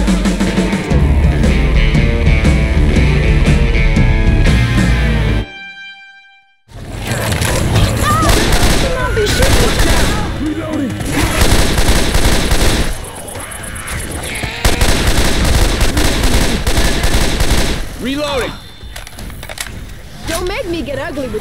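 Gunfire in the zombie co-op shooter Left 4 Dead 2, repeated loud shots and bursts amid dense game noise with a brief pause partway through, while players talk over it.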